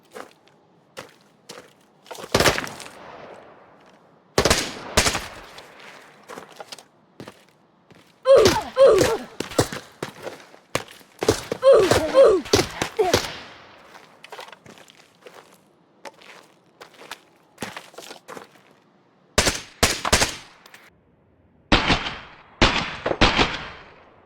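Bursts of Arena Breakout gunfire crack loudly in short volleys, separated by quiet gaps, with scattered single shots and thumps between.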